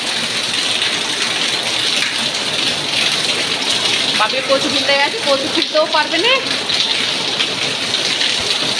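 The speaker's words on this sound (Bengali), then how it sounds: "কিন্তু এত জোর বৃষ্টি এসছে আবার" Heavy rain roars steadily in the background during an all-day downpour while a person talks over it for a few seconds.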